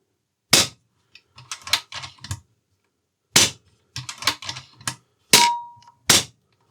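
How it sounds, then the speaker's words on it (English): AGT Uragan 2 air rifle dry fired with a de-pinger fitted: a few sharp, close mechanical clacks, each followed by short clicking and cocking rattles, with one brief faint ring after a shot and no voices. "I'll give you a fire of the rifle, dry fire of the rifle, and you'll see the before and after difference."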